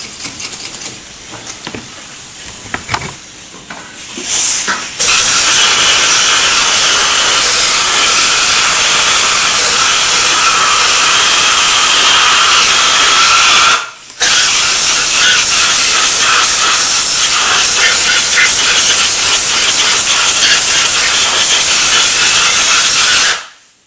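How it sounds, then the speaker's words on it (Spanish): Compressed air blasting through the holes of an engine cylinder head while cleaning off carbon and chips, loud harsh hissing bursts, one long blast broken by a brief pause, preceded by light clattering handling. "después vamos a sopletear con aire y gasolina"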